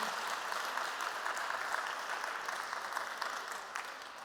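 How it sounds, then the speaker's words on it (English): A live-show audience at Nordic Beauty Days 2022 claps continuously, a steady, even patter of many hands heard from a moderate distance, with no voices on top. "let's give her once again a round of applause, everybody"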